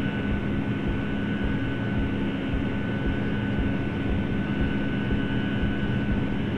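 A QualityWings 757-200 airliner in Flight Simulator powers down the runway on its takeoff roll, producing a loud, steady jet engine roar with constant broadband rumble and a faint tonal whine, with no voices.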